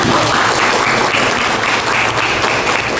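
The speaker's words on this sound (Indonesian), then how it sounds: "Bagus, cocok, tepuk tangan." Classroom applause from students in an Indonesian university teaching session, a loud, dense burst of hand clapping filling the room steadily from start to end.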